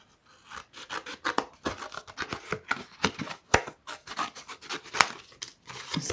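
Scissors snipping through painty protection paper at close range, a quick irregular series of crisp rasping cuts with short pauses between them.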